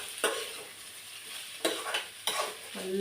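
Minced chicken and onion sizzle steadily in a pan while a spoon scrapes and stirs through them in three distinct sweeps, close and clear, with no talking.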